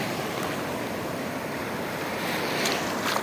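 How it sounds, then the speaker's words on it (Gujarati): Rough sea surf crashing onto the shore beside fishermen pulling in nets, a steady broad roar of water mixed with wind noise on the microphone, near and loud, without speech. "એટલા મોજા આવે."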